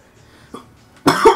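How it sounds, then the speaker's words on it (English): A single loud, close cough bursts out after a quiet moment with a faint click, harsh and breathy, heard during a Tales of Vesperia gaming stream. "This cough is killing me."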